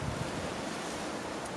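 Strong wind blowing outdoors while a pergola is being put up, a loud, steady broadband rush buffeting the microphone throughout, with no voices.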